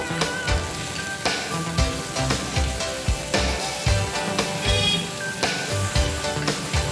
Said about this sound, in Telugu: ఇప్పుడు ఆనియన్స్ వేసుకున్న తర్వాత చూడండి, కొంచెం బాగా వేగాలయ్యి పచ్చివాసన పోయేంత వరకు